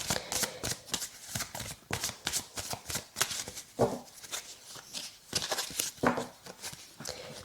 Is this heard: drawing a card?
yes